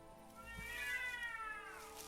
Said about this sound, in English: Oh, we got some cat fight going on.